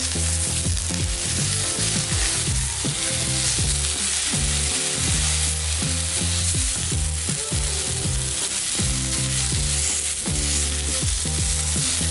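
Pork fillet pieces fry in a pan with a loud, dense, unbroken sizzle and crackle, with faint utensil clicks and scrapes mixed in throughout.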